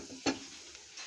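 Onion and garlic frying in a pan with black cumin seeds, a single brief stir and sizzle burst near the start followed by a low steady hiss of hot oil.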